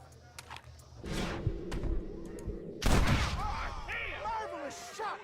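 Gunfire in the Red Dead Redemption video game, with sharp broadband shots and a loud blast near the middle, layered over a busy game soundscape with rumbling noise and bursts of voice-like sounds.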